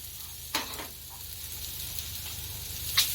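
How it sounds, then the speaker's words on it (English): Onions and beef sizzle on a hot Blackstone griddle: a steady, soft frying hiss with a couple of brief sharper crackles and spatters, and no voices. "I'm going to get the onions started on here and the beef"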